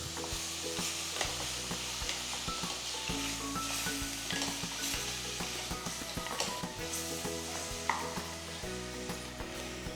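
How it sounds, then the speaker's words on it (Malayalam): Mutton tossed in oil over a high flame in a pan for a spicy curry, a steady loud sizzle with constant scraping and stirring clatter throughout, no voices. "ഒരു 5 മിനിറ്റ്സോളം ഹൈ ഫ്ലെയിമിൽ മട്ടൺ ഇതേപോലെ ഒന്ന് ഓയിലിട്ടൊന്ന് ഇളക്കിയെടുക്കുക"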